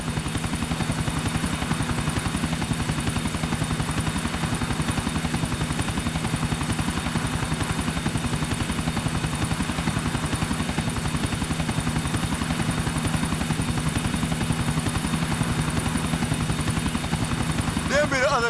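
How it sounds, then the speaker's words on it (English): Helicopter in GTA IV thrumming steadily with a loud, even rotor beat and engine whine throughout, with speech faintly present in the mix. "There be the other chopper."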